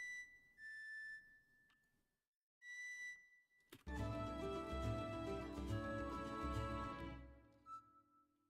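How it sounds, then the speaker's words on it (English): A penny whistle plays short high notes, pauses, and plays again, then a denser passage joins with other instruments underneath before fading to quiet. "Let's let the penny whistle do that one."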